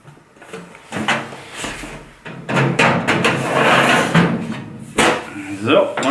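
A metal drawer of an IKEA Helmer cabinet slides in with scraping rattles and a couple of clunks, close by and intermittent, while a person talks.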